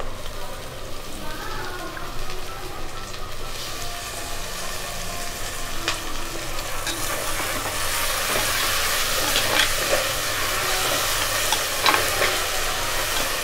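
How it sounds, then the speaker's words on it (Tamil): Tomatoes stirred into sautéed onions in a pan for crab rasam, a dense, continuous frying sizzle with spoon scrapes, growing slightly louder and crackling over time. "இப்போ வெங்காயம் வதங்கிடுச்சு. இப்போ நம்ம தக்காளி போடுறோம்."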